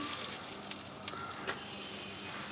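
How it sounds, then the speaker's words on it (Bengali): Whole garam masala, cinnamon and cardamom, frying in hot oil in a wok, giving a faint, steady sizzle with a few small crackles and no voices. "তারপর আমি কড়াইয়ে তেল দিয়ে তাতে গরম মশলা দিয়ে দিলাম"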